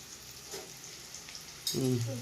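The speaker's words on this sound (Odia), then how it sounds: "ଆଜି ଭାଜୁଛି ବିମ୍ ଛୁଇଁ ଆଳୁ ପୁରା କଡ଼ା ଭାବେ ଭଜା ହେଉଛି" Beans and potatoes fry crisply in hot oil in a pan, a soft close sizzle with light stirring scrapes that swells louder near the end, while a voice speaks briefly over it.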